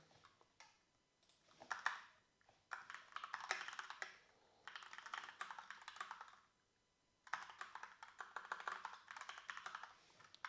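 Computer keyboard typing in steady bursts of rapid clicks with short pauses between them, close and fairly quiet, with no one speaking.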